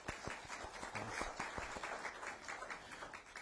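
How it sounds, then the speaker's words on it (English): Guests at a news conference receive a round of applause: a modest group's clapping, fairly faint, with separate hand claps audible in an uneven, sustained patter. "Let's give them a round of applause, please."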